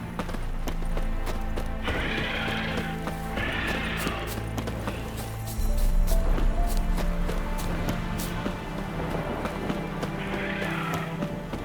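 Horse hooves clip-clopping at a steady pace over a constant background hum, with occasional soft bursts of breathy noise, in the video game The Witcher 3: Wild Hunt.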